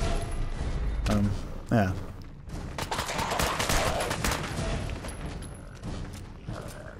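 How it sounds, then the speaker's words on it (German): Gunfire in Fallout 4 hits a downed ghoul's leg, several sharp shots and bursts ringing out under a voice talking briefly. "Während der am Boden liegt, kann ich schön auf sein Beinchen schießen."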